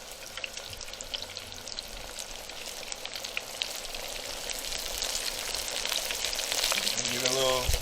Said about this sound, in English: we're gonna go ahead and put it inside the deep fryer